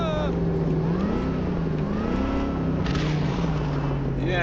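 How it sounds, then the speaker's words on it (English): A car in a video game runs with a nasty, noisy exhaust, its engine droning and revving up and down in smooth swells, loud and continuous under a rough, raspy wash. "this car has a really nasty, noisy exhaust"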